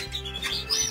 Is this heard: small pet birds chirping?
yes